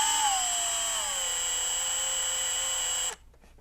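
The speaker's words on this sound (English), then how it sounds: "I think I'm going to use the drill," A steady high-pitched whine from a power drill cutting a thread chamfer on a BMW at constant slow speed, its tone sagging slightly under load before cutting off abruptly.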